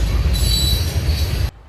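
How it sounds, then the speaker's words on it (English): An eastbound unit grain freight train rolls past close by, a loud steady rumble with high wheel squeal riding on top before cutting off abruptly near the end. "another unit grain train headed eastbound."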